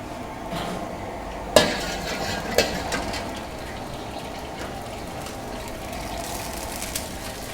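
Ginger and sliced garlic fry in oil in a pan, giving a steady low hiss with two sharp utensil clanks near the start and fainter knocks later.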